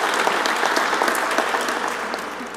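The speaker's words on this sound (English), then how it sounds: "Another big round of applause, right?" Crowd at the Navy Pier Marina opening in Chicago breaks into dense, continuous applause, a steady wash of many hands clapping at even loudness, heard alone without talk.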